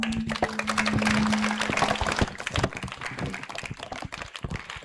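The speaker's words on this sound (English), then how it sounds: "encourage her with a big round of applause" A school audience gives a round of applause for a student speaker at a National Science Day assembly, steady dense clapping that thins out over several seconds in a reverberant hall.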